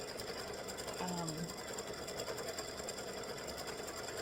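An embroidery sewing machine stitches out freestanding lace Easter bunny earrings at about 600 stitches per minute, giving a steady, rapid mechanical whirring and clatter that runs evenly throughout at moderate volume.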